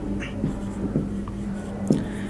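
Pen scratching out a date on paper, soft intermittent strokes close by under a low steady room hum.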